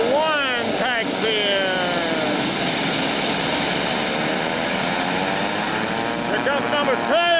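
A small propeller airplane taxis, its engine droning steadily and fairly close throughout while people talk over it.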